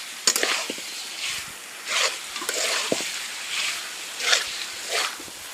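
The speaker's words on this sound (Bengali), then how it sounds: "আলুগুলো দিয়ে ভালো করে মিশিয়ে নিচ্ছি।" A spoon scraping and stirring through fried potatoes mixed into village-style chicken curry in a pot, repeated rhythmic strokes over a low sizzle, close and moderately loud.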